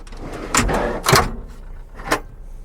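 A storage drawer slides open in the rear cargo area of a 2018 Ford Police Interceptor, a few short, close sliding and knocking sounds over quiet background.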